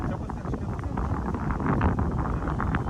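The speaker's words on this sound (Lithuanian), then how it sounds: "Mat, vėjas pučia, nesigirdi." Wind gusting across a fishing pond on a rough-weather day, buffeting the microphone with a continuous low rumble and flutter that swamps other sounds.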